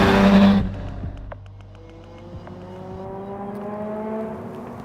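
A Lamborghini Miura supercar roars loudly at first, then its engine note drops and climbs again in rising, whining gear pulls under hard acceleration, close and without voices.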